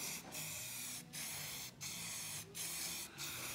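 Spray coating hisses steadily onto a Cub Cadet 1450 garden tractor in close, continuous bursts, with four or five brief pauses between passes and no talk.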